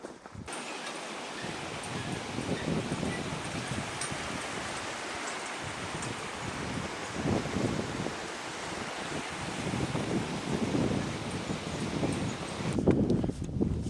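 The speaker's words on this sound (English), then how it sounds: "So the wind is blowing, as you all can hear." Strong wind gusting outdoors on a hike up Kebnekaise, Sweden's highest mountain, a continuous roaring rush that swells and buffets the microphone throughout, with no clear talk.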